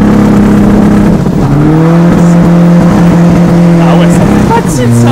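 A stage 3 tuned SEAT 1M TDI diesel accelerates hard with wheelspin, its engine droning loud and close and then stepping up in pitch through rising revs, with tyre scrabble layered in and people talking over it.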